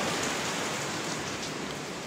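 Dense, heavy rain pours steadily during a storm with a constant hiss, loud and unbroken throughout.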